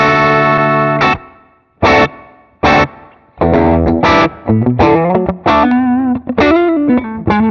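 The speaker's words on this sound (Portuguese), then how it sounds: "vamos olhar o reverb. Eu adoro esse spring dele" An electric guitar runs through a spring reverb set to mix 10, decay 70 and tone 70 with the trail on, playing loud distorted chords and notes whose reverb tails ring out between stabs.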